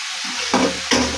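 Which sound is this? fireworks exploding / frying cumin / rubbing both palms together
frying cumin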